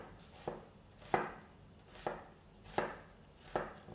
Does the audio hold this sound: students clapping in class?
no